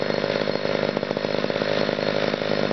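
Chainsaw running steady and loud up close, its engine buzzing with a slight flutter throughout, while cutting firewood in freezing cold at an off-grid RV site; the chain creeps and the air filter needs replacing.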